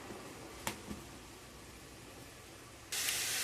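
After a quiet stretch with two soft clicks, chopped onions and tomatoes hit a hot pan and start to sizzle loudly in a steady hiss as the base for a potato and cluster bean stir-fry.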